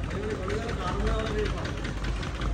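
A Mini Sonalika tractor engine runs with a low, uneven chugging rumble close by, while people talk over it.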